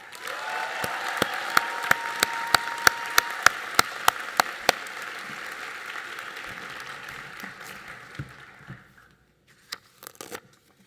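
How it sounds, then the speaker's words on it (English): Audience applause at a graduation academic excellence awards ceremony fills the hall for a salutatorian, steady broadband clapping with sharp individual claps on top, tapering off near the end to a few scattered claps. "Please join me in a round of applause."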